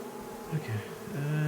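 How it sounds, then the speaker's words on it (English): Bees buzz in the Going Medieval video game, a short stretch of droning hum with wavering pitch that grows a little louder toward the end, with no talking over it. "That sound mixed with the bee sound makes me lose my mind."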